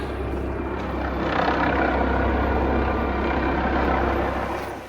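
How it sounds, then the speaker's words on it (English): A helicopter on a supply pickup at Phantom Ranch in the Grand Canyon makes a steady, fairly loud rotor rumble and whine that swells slightly midway and stays constant without talk. "now we're looking at a helicopter that looks like it's about to have to rescue someone"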